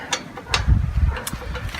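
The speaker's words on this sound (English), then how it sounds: "time to tighten them up" Bolts are tightened on the tray of an AL960B lathe: brief metallic clicks and ratcheting taps, close and moderately loud, with a low mechanical thud in the middle.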